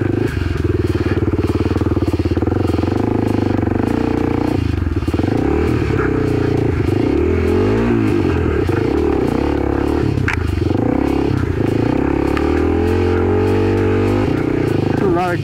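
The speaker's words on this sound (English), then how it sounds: "My little Kawasaki." Kawasaki KLX300 dirt bike ridden along a trail, its engine droning loud and steady throughout with rising and falling revs as it moves over rough ground, up close.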